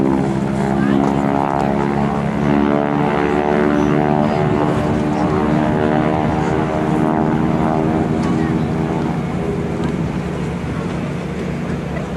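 A propeller trainer airplane of World War II vintage drones steadily overhead at the 2011 AirPower Over Hampton Roads airshow, a loud continuous engine hum under an announcer's voice.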